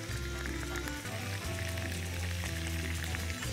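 Garlic fries in oil that is not yet very hot, giving a soft, continuous sizzle that stays low and even throughout, with faint tonal background sound.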